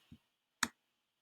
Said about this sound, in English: I'm just going to double click on this or right click on this